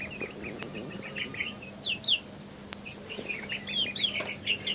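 Mixed golden, Misri, black and white hens kept in a cage in a rooftop room give soft clucks and higher chirping calls, scattered and moderately close over a faint steady background hum.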